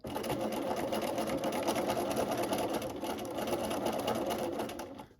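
A sewing machine runs continuously while stitching a fabric seam, a close, steady rapid mechanical hum and needle clatter that winds down at the very end.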